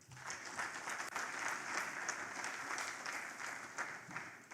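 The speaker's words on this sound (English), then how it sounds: "Please, another round of applause for him." An audience at an African emerging markets forum gives a speaker a round of applause, dense continuous clapping from many hands at an even level, rising slightly then holding steady without speech.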